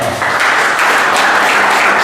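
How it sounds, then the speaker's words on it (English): Steady, dense applause from the audience at a November opening ceremony, a continuous wash of many hands clapping together without a break. "Please, I think we clap"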